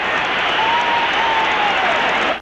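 Boxing arena crowd at a middleweight title bout roars and applauds at the end of round 7, a dense, loud, sustained cheer that holds steady throughout and cuts off sharply at the end.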